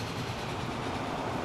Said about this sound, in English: Oh no, here comes the train for more iron.